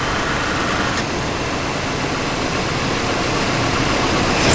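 A 1987 GMC Sierra Classic pickup idles steadily just after starting, a constant low engine rumble with an air conditioner blowing alongside, close and even for several seconds.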